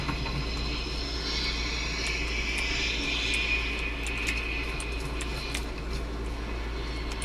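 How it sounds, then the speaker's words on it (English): A jet aircraft passes high overhead, a steady, continuous roar with a faint rising and falling whine, moderately distant and filling the whole span without talk. "It sounds like a jet's up there."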